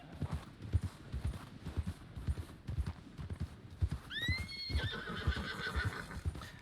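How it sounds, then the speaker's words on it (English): Horses cantering in a video game roleplay, with a steady rhythmic clip-clop of hooves throughout and a clear neigh rising over the hoofbeats partway through. "Right, picking up to a canter."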